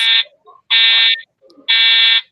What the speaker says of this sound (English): Fire alarm, yay!